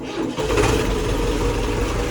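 A tractor engine starts and settles into a steady, loud, close mechanical running rumble, with no talk over it.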